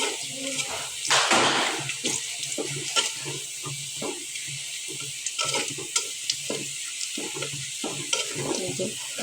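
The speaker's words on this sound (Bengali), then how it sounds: "রসুন পেঁয়াজ মরিচ ভাজা হয়ে যেতেছে।" Garlic, onion and chili fry in a pan as a spatula stirs them, with repeated scraping strokes over a softer, continuous sizzle, heard up close.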